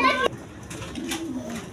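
Pigeons cooing softly at a seller's coop with a pair of red Gorra cock birds, a brief low coo drifting under background voices, with a sharper bird call at the start.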